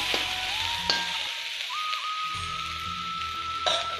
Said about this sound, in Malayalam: നമ്മളിത് നന്നായിട്ട് വറുത്തെടുക്കണം